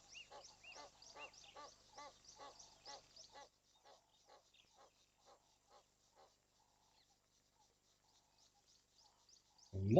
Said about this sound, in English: Lots of geese enjoying this little puddle.